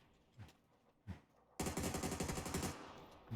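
M16 rifle fire in PUBG: two faint separate thumps, then a loud rapid burst of automatic shots with an even, fast rhythm lasting about a second.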